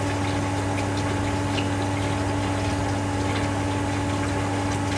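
Water pumped through a Venturi meter in a lab rig, filling a tank toward 10 liters; a steady, loud pump hum with constant rushing, churning water runs unbroken throughout, no voices.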